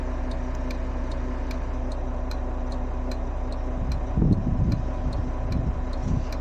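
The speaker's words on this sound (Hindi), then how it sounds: "अभी देखें इशारे चल गए, आवाज़ आ रहा है, टिक टिक टिक टिक" Car turn indicator relay ticking steadily after a blown fuse was replaced, a regular tick-tock pulse over engine hum, with a brief low rumble partway through.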